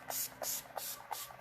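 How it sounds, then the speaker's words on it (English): Makeup setting spray mists from a pump bottle in four short, soft hissing bursts at a steady rhythm, close and faint. "And then I'm going to add setting spray."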